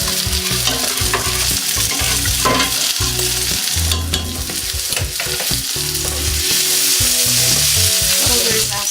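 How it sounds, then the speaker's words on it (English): A tomato, fresh basil and herb mixture is stirred in a frying pan, with a steady loud sizzle and repeated scraping strokes running throughout, no talking. "And then we'll give this a little stir around."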